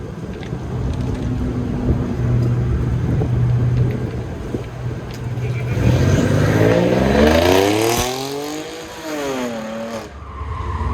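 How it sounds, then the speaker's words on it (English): A 1963 Ford Ranchero with a V6 and all-wheel drive launches and accelerates hard on an outdoor autocross course, its engine note rising and falling through gear changes amid steady crowd and ambient noise, with some tire scrub. "E. Keenan Smith sliding up to the line, this 1963 Ford Ranchero"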